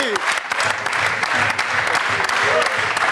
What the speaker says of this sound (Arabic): تصفيق على سليم العريسي